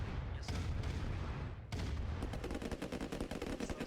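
Rapid gunfire and cannon booms from a tank battle in Command & Conquer: Red Alert Remastered, dense overlapping shots with a brief gap, then a fast rattling burst, loud and continuous.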